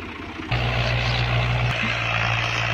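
A Ghazi tractor pulling a 16-disc harrow runs loud and close, a steady droning engine hum that jumps in level about half a second in and shifts pitch near the end.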